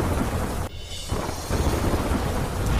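A late-night thunderstorm brings heavy rain pouring steadily onto flooded roads, with a loud rumble of thunder breaking through the constant downpour.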